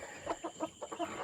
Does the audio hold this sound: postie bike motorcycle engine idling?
no